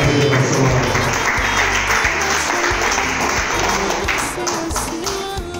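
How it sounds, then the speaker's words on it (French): An audience applauds in a dense, loud, continuous wash of clapping that fades slightly toward the end. "Est-ce qu'on peut l'applaudir cette fois?"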